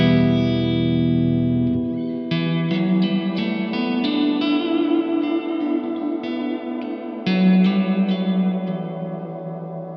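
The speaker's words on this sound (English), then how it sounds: "if you hold this down, you get a freeze on the reverb" A Blackstar Amped 1 guitar amp pedal holds a reverb freeze, a sustained frozen wash droning beneath a run of picked guitar notes whose echoing tails pile up, with no talking.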